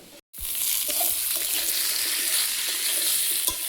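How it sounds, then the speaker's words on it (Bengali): Potatoes, pointed gourd and slit green chillies hit a hot pan with a short thud, then fry in a steady, close sizzle of oil for a few seconds. "আলুটা ভেজে নিয়েছি, পটল আর চেরা কাঁচা লঙ্কা দিয়ে আর একটু ভেজে নেব।"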